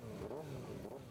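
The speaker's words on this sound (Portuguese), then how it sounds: "A sonoridade do ronco de motor tão característica também está por toda parte." Motorcycle engines rumbling at a motorcycle rally, a steady mid-pitched roar with slight revving swells, faint and somewhat distant, continuous throughout with no voices.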